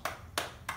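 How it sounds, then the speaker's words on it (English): Three single hand claps at a steady, even beat, close and clear with quiet gaps between them. "we wouldn't clap it like this because it's 4 beats"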